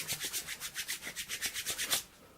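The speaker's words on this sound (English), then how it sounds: "He rubbed his hands together." Hands rub briskly together close by, a rhythmic series of about fourteen quick swishing strokes that stop abruptly.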